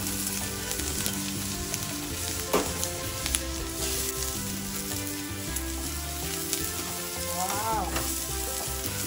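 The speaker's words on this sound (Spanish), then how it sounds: "Voy a sofreír mi cebolla y mi ajo." Onion and garlic fry in olive oil in a pan that already holds bacon, giving a steady dense sizzle across the whole stretch with occasional stirring scrapes and small pops, close and fairly loud, with no talking.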